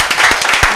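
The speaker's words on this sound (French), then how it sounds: "on applaudit pour merci" Brief burst of clapping from a small group at a morning session, several distinct hand claps at an uneven rhythm, fairly close and moderately loud, with no talking over it.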